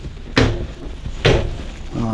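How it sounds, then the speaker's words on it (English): Two full-extension ball-bearing drawers in a 2019 Newmar Canyon Star 3911 motorhome slide out and stop with soft thuds about a second apart, smooth and close, with a faint rolling rattle at the end. "ball bearing drawer glides"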